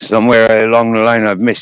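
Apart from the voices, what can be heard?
No distinct noise like a dog, phone or traffic.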